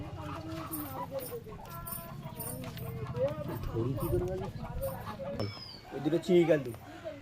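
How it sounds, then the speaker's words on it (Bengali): Large, long-bodied Chini Kaldum pigeons in a home loft give soft bird calls mixed with nearby human talking throughout, with a louder burst of calls near the end. "বন্ধুরা পায়রা দুটো দেখুন লং সাইজ"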